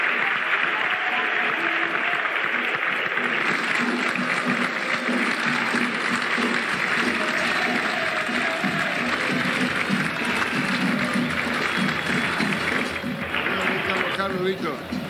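Dense stadium applause and crowd chants of olé hold steady throughout a Paraguayan Primera División football match, Olimpia versus Tacuary, loud and enveloping, with a Spanish-speaking commentator talking over it.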